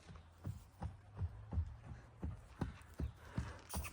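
A yearling filly's hooves clip-clop on the ground, about a dozen soft, evenly spaced thuds in a walking rhythm, faint and fairly close, with no talking.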